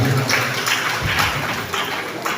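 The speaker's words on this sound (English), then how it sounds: "Clap for them again." Audience at a youth mentorship and empowerment event in Agbor clapping for the youths, a dense, steady wash of applause filling the short moment with no clear voices.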